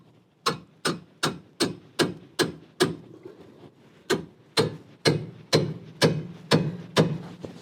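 A hammer striking a pickle fork to break the ball joint taper on a Fiat 500: a close, sharp series of metallic blows, a steady run of seven, a short pause, then six more, with no talk.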